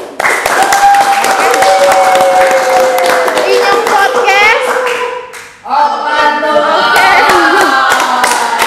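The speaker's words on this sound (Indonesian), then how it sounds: "Sepi sekali, berikan tepuk tangan dulu." Applause and clapping from an audience at a podcast-style event in Purwokerto, loud and close, running under a speaking voice and background music with a brief dip midway.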